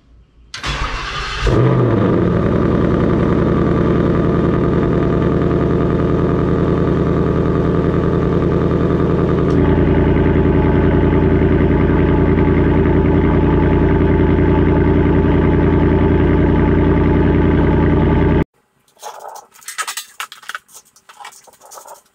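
A Ford Mustang GT V8 cranks and fires, then settles into a loud, steady, rumbling idle close by for about seventeen seconds before cutting off abruptly, followed by faint handling noises.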